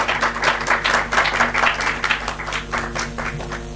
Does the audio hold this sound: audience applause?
yes